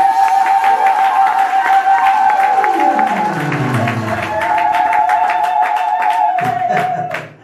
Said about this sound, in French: donnons des acclamations à Jésus-Christ